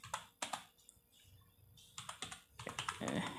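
Java code being typed on a computer keyboard: quick bursts of close, crisp key clicks in an uneven rhythm, with short pauses between flurries and no voices.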